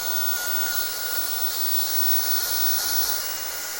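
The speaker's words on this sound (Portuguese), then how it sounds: "Secador da mesma regulagem, velocidade média, temperatura alta." A hair dryer set to medium speed and high heat, used while blow-drying a client's hair roots with a brush, gives off a constant, loud airy whoosh with a thin steady whine and no pauses.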